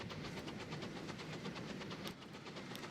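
A rocket-type steam locomotive runs on flat track in the video game Transport Fever 2, with a quiet, steady rhythmic chuffing and rolling rumble.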